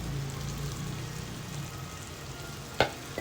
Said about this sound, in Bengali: এখন আমি পরিমাণ মতো জল দিব।